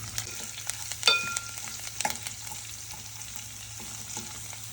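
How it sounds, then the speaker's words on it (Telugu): Curry leaves, green chillies and onions frying in oil for a stuffed brinjal masala curry, a steady sizzle with a few sharp pops and scraping stirs, close and continuous, no voices. "కరివేపాకు, పచ్చిమిర్చి, ఆనియన్స్ ఇవన్నీ ఫ్రై చేసుకోవాలి."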